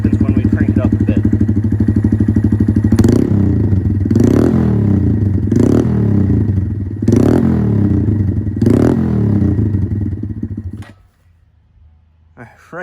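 A Honda Grom motorcycle with a dual exhaust idles with a fast, loud patter, then is revved hard in about five sharp bursts before the engine cuts off, leaving near silence; the sound is close and dominant.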